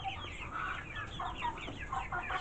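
Several multicolored backyard chickens cluck steadily at moderate loudness, with overlapping calls continuing throughout and no talking.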